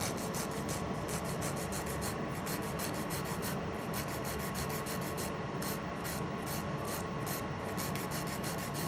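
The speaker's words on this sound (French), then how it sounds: "je vais d'abord commencer par raccourcir mon ongle" A file shortens a fingernail at home. The rasping is steady, close and continuous, made of quick repeated rubbing strokes, with no voice.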